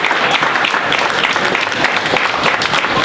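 A comedy club crowd applauds and cheers a comedian taking the stage, a dense, steady wash of clapping that holds loud and even for a few seconds.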